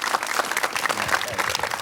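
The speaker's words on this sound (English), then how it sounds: "could we all give a round of applause for Seth Kaller today?" Dense, steady audience applause fills the room after a talk by Seth Kaller, a continuous patter of many hands at moderate loudness throughout.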